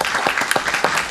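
A council meeting crowd applauds a new city manager, dense steady clapping with a few louder individual claps standing out, fairly close and continuous for the whole moment.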